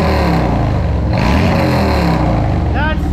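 A 2022 Harley-Davidson Road Glide fitted with a TAB Performance Zombie exhaust idles in gear, a loud, deep, lumpy rumble that continues throughout, with a voice speaking briefly over it.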